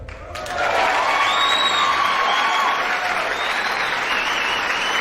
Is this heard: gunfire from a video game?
no